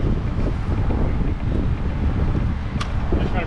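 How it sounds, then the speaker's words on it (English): Wind gusts outdoors beside a river at Kahana Bay on Oahu, Hawaii, a steady loud rumbling buffet against the microphone with a faint splash of water beneath, no clear speech. "Oh, it's a little windy out."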